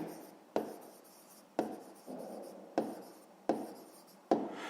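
Pen writing a fifth-grade math exercise on paper by hand, a series of five or six short scratching strokes in a steady rhythm, close and quiet without talk.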